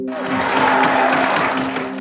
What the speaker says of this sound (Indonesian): Persidangan hari itu pun dicukupkan dengan tepuk tangan.